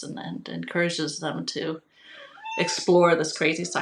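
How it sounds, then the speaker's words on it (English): House cats meow in the background of a parenting podcast, with a short, rising meow in a brief pause between stretches of close speech by a woman. "Sorry for my cats"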